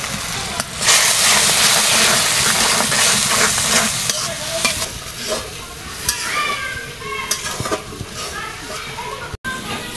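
Spices with ginger, garlic, turmeric, chili powder, coriander powder and salt being sautéed in a pan for a radish and puti fish curry, a steady loud sizzle with repeated stirring scrapes; a voice speaks occasionally over it.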